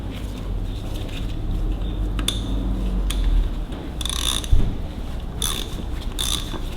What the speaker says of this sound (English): Just going to take the rest of these studs out now as well.